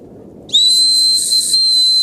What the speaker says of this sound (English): So there's also a whistle on here.